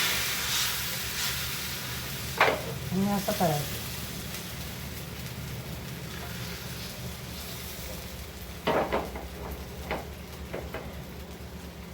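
Rice flour batter sizzles on a hot griddle with a constant hiss and a few sharper bursts as more batter goes down, while a person speaks briefly.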